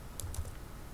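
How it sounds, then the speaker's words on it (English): A few quick key taps on a computer keyboard, faint and brief, against low background hum. "I click rename, and then I type a new name"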